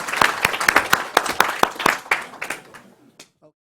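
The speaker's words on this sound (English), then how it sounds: "all right, big round of applause." An audience at an econometrics presentation gives a round of applause, with sharp individual claps that start fairly dense and thin out to a few scattered claps before stopping.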